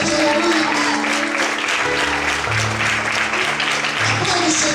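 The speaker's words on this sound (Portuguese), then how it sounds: "Você pode aplaudir ao Senhor bem forte" Congregation applauding the Lord during a church service, a dense wash of clapping filling the room at steady loudness, with a low sustained tone beneath it.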